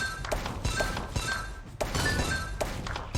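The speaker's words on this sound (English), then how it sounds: "I shot the wrong yellow ball" Zuma Deluxe on PC: repeated ball shots and thunking impacts into the rolling chain, a few sharp clacks with glassy breaking accents over a steady busy game soundtrack.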